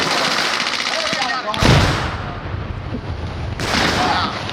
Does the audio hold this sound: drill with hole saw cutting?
no